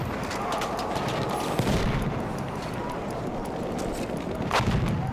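Battlefield 1 video game gunfire in a house fight on the Amiens Conquest map: near-continuous rifle and machine-gun bursts crackle and thud, with a few heavier booms punching through the dense fire.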